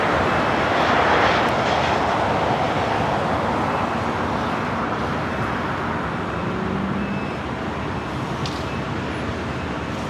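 A converted Boeing 747-400 airliner at LAX, Los Angeles airport, gives a steady, loud broadband jet engine roar throughout, with no talk heard.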